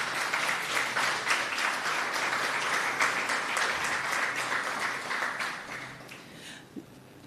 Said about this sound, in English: please give yourselves a huge round of applause for that.